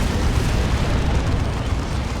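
Tank Buster Barrage explosions in a Warhammer 40k Dawn of War 2 3v3 match, a dense, loud, continuous rumble of blasts filling the whole clip with no clear gaps.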